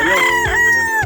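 Gamefowl roosters kept on Probio-Chick feed crow loudly and close by, a strained rising call broken by clucks, with other chickens overlapping in the background.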